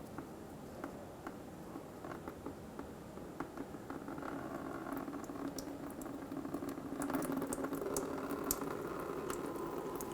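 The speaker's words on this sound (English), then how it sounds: "Open this and allow the radiator to drain." Coolant drains from the radiator petcock of a 2000-2007 Ford Focus, a quiet continuous bubbling trickle of liquid into a collection bucket, with occasional drips and a slight swell toward the end.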